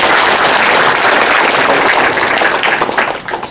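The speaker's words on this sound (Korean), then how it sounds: "한번 박수 한번 크게 좀 보내주시고요." Audience at a year-end address ceremony giving a loud, dense round of applause that stays strong for about three seconds, then thins out and fades.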